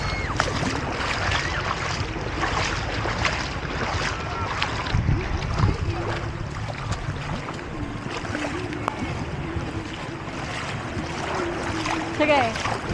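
Steady surf and wind roar across the whole stretch, with waves washing in under voices talking nearby.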